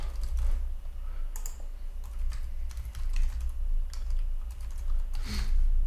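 Fingers tap on a computer keyboard while filling in an account form, producing a close, irregular run of quick key clicks with short pauses and no speech.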